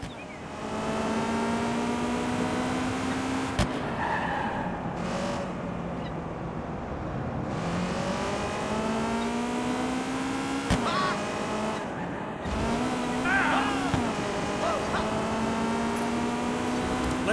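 A car drives through the open world of Watch Dogs 2, its engine droning steadily and rising in pitch through several gear shifts, with brief clunks and a few sharp knocks along the way.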